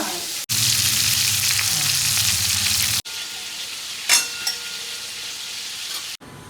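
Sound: fish frying in oil

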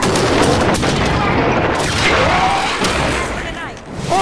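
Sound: gunfire and exploding cores in the Halo 5 video game

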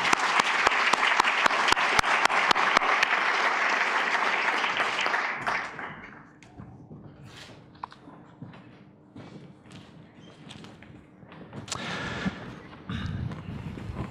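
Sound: audience applause welcoming panelists

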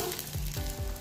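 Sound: garlic sizzling in hot oil for tempering

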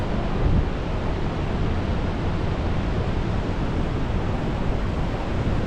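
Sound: water flowing at Victoria Falls

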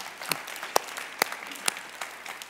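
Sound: audience clapping

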